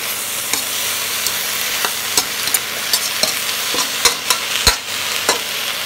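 Chicken with sour bamboo shoots sizzles and fries in a hot pan while a utensil stirs it, giving a steady hiss broken by regular scraping knocks, close and with no talking.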